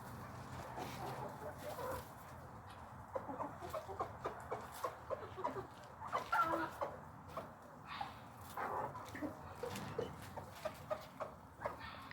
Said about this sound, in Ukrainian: Далі нашу увагу привернули свійські птахи.